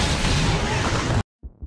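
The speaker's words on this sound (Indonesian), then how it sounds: "Ruangan tersebut telah dipasangi bom dan langsung meledak setelah hologram Kuze menghilang." A bomb goes off in a rigged room in a film scene, a loud, dense roaring blast that fills the clip, then cuts abruptly to silence before low rumbling thumps return.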